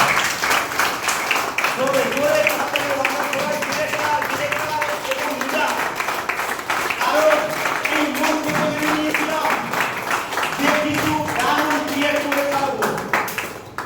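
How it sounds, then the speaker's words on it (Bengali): Audience applause at an event, a dense, steady patter of clapping that carries on for about fourteen seconds with voices mixed in. "তো তাদের জন্য একটু হাততালি হয়ে যাবে।"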